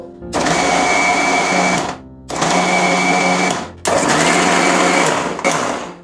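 An electric blender whirs through date palm cake batter, running in three steady whining bursts with brief stops between, loud and close, the later runs at a higher speed.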